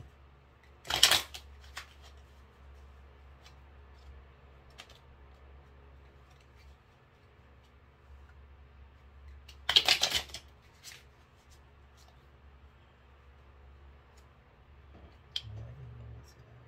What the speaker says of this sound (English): when I shuffle cards for myself, I shuffle until I feel the urge to stop